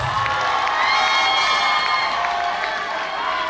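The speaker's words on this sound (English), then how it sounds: "Give him a resounding round of applause." Crowd cheering and applause at a Nigerian palace event honoring the Ooni of Ife, a steady dense wash of shouts, whoops and clapping that holds loud and continuous throughout.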